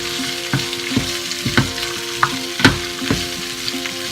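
Peppers and onions roasting in a pan over high heat produce a continuous sizzle punctuated by repeated clanking stirs and scrapes at an irregular rhythm, close and fairly loud with no talking.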